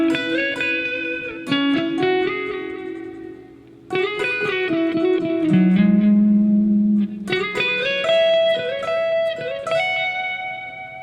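An electric guitar plays a slide and a hammer-on lick together, three close phrases of ringing, reverb-tinged notes with sustained tones between, with no voice over them.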